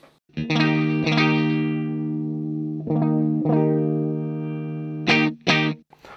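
Clean electric guitar chords on a Stratocaster with ObsidianWire Five Sixty pickups ring out with sustained strums, a few sharp repeated strikes near the end, no voices.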